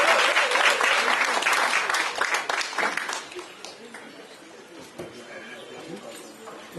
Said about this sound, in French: À présent, nous allons écouter M. le sous-préfet sur vos applaudissements.